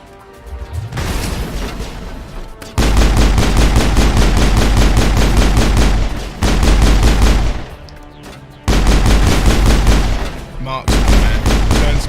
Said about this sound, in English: Turns a machine gun into a freaking machine pistol.